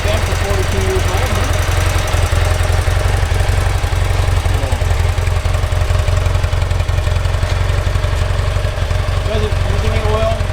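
A 1978 BMW R80/7 motorcycle engine runs at a steady, loud, close idle after starting, its even mechanical thrum continuous throughout, with talk mixed in over it.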